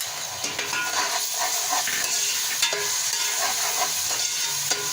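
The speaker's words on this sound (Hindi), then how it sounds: "अब इसमें जाएगा अदरक लहसुन का पेस्ट।" Ginger-garlic paste sizzles steadily in a hot pan, a dense continuous frying hiss broken by occasional scrapes of stirring.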